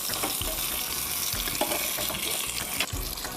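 Hot tempering poured into a coconut curry, a dense crackling sizzle that holds steady and close for a few seconds, with faint liquid splashing and stirring beneath it.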